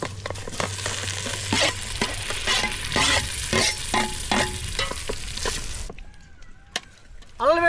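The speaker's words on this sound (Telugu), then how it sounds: "మొత్తం అంతా ఫ్రై చేద్దామండి." Jackfruit pieces for biryani sizzle and fry in a pan while being stirred with repeated scraping strokes, loud and close, with a voice talking over it before the sizzle cuts off.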